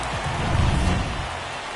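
Steady rain falls on a baseball stadium in MLB The Show 24, a dense even patter with a low rumble beneath, continuous and fairly loud across the short stretch.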